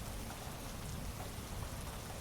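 Steady rain pouring into a pond, a dense, even hiss of drops hitting water with a constant close wash and no breaks or voices.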